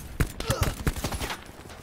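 Rapid bursts of gunfire sprayed in Call of Duty: Black Ops 4, a string of sharp, closely spaced shots lasting under two seconds at moderate level with some game background noise.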